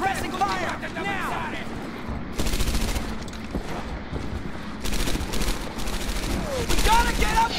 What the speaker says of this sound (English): Travis, give me some suppressing fire!